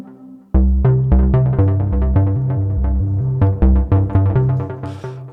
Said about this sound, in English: And the bass sounds something like this.